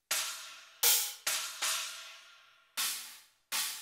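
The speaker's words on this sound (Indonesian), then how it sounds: "Kalau ini suara stacknya lebih close." Closed stack cymbal on an EF-Note Pro electronic drum kit, six short, trashy, bright crashes in uneven rhythm, each decaying quickly.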